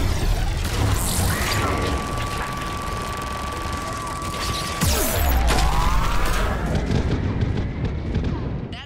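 Missile barrage fired in Mass Effect 3 during a chaotic battle on Thessia, with a loud continuous roar, crashing impacts and a sweeping whine, dense and sustained throughout with a burst of heavier blasts partway through.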